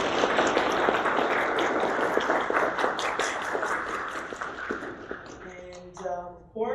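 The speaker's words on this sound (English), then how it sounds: "Please give a round of applause." Audience applause at a comic and toy convention Q&A with actor Paul Freeman, a dense wash of clapping that holds steady for several seconds before thinning out and fading near the end.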